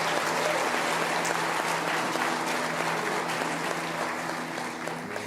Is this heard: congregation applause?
yes